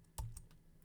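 A single light tap of the Enter key on a computer keyboard, quiet and close, followed by a couple of softer faint key clicks.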